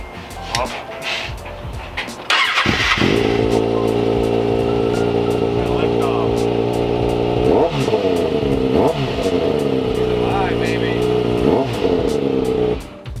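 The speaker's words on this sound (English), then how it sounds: "Let's see if she starts up." A 2020 Kawasaki ZX6R 636 motorcycle engine cranks and catches, then idles loudly up close and is blipped through several sharp revs, with people talking over it.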